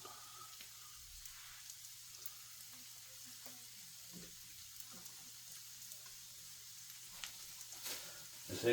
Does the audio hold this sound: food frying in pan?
yes